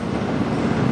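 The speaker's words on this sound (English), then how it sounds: "It's so freaking windy out." Strong wind buffets the microphone in a constant low roar for a second, with no voices.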